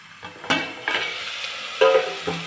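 Vegetables frying in oil for veg pulao: a few distinct stirring scrapes and clinks of a spoon over a soft, low sizzle.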